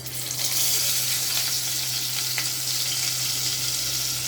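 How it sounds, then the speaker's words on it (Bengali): Pieces of kurhal fish sizzle in hot oil in a kadai, a loud, dense, continuous frying hiss close up with a low steady hum beneath and no talking. "দেখো তেলটা গরম হয়ে গেছে এবার এক পিস এক পিস করে দিয়ে দিই"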